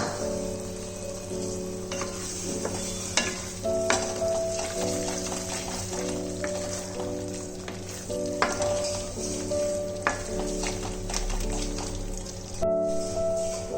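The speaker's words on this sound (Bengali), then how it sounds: "এই সময় আমি চিংড়ি মাছ যেগুলো ফ্রাই করে রেখেছিলাম ওগুলো মশলার মধ্যে দিয়ে কষিয়ে নেব।" Fried prawns being sautéed in spice paste in a pan, a steady close sizzle with frequent stirring scrapes running throughout, no talking.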